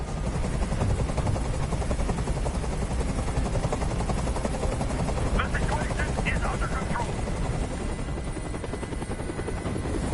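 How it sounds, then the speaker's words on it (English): A helicopter hovers overhead in the video game Detroit: Become Human, its rotor chop a dense, continuous thumping that stays loud throughout. Brief crackling bursts break in midway. "I can't stand that noise anymore. Tell that helicopter to get out of here."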